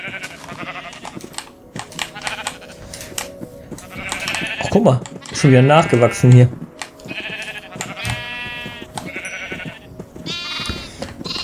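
Purple sheep in Minecraft bleat repeatedly, several wavering cries near and far mixed with keyboard typing, while someone talks over parts of it.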